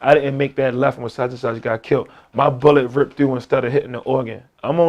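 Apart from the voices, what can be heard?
No everyday noise stands out behind the speech.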